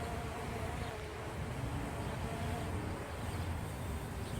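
Steady outdoor wind roars and buffets the microphone throughout, with a low continuous rumble and no clear breaks, heard during a small MJX Bugs 2 drone flight.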